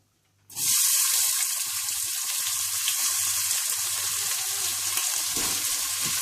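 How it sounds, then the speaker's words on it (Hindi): Chopped onions hit hot oil in a pan for pizza topping prep, bursting into a loud, steady sizzle that starts abruptly and continues without pause, with faint low stirring knocks underneath. "पिज्जा सॉस बनाने के बाद आप तेल गरम कर लें और इसमें आप प्याज डाल लें।"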